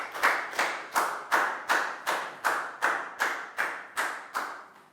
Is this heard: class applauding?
yes